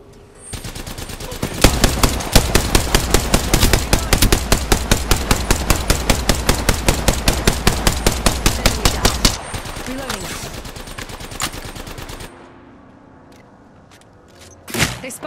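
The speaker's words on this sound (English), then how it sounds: "I'm taking fire" Rapid, evenly spaced automatic fire from a weapon in Apex Legends, played as Loba, rattles loudly for about eight seconds, then trails into scattered distant shots and a final thud.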